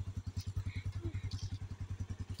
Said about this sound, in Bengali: তুমি বাইকে চলে যাচ্ছ?